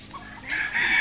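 A chicken on a farm gives a short, loud squawking call that swells in the second half, a single brief burst with no talking.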